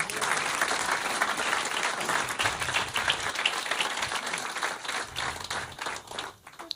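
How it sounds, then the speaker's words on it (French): Applause fills the room during a comedy stand-up show, sustained clapping from the crowd lasting several seconds before thinning out near the end. "Ce soir, il y a mon père dans la salle, vous pouvez l'applaudir"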